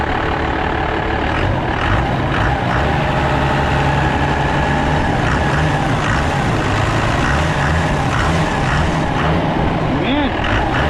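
A Dodge truck's diesel engine idles steadily and loudly up close, a dense low rumble with faint ticking, while people talk over it.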